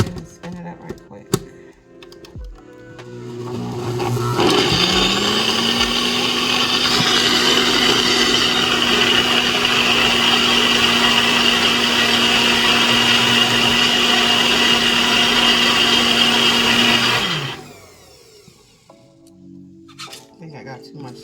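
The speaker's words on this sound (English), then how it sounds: "So I'll go ahead and spin it up right quick." A NutriBullet blender spins up and whirs loudly for about thirteen seconds while blending a sweet potato smoothie, then cuts off abruptly, with brief talk and handling before and after.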